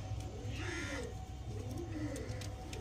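Pigeons in a crowded loft coo steadily in low, rolling, overlapping calls, fairly close and continuous, with faint chirps mixed in.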